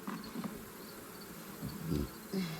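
Honey bees buzz around a hive, giving faint, intermittent drones that rise and fade as individual insects pass near, with no talk over them.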